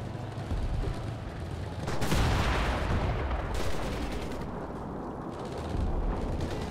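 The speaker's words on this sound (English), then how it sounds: "I hear a lot more gunfire to my right." Dense, crackling bursts of rapid gunfire in the game Enlisted, distant and continuous, with a louder burst in the middle and no talking.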